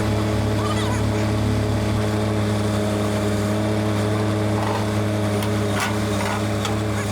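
An RS06 skid steer engine drones steadily and loudly while lifting and pulling a trailer on a rescue, a constant close mechanical roar with faint higher clanks.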